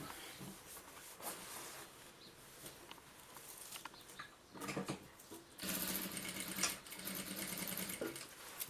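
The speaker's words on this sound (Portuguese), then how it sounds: "Vou puxar ele pra costurar." A sewing machine stitches fabric for a mother-and-baby shoulder and stroller bag, running in short bursts that grow louder and more sustained toward the end, close and alone.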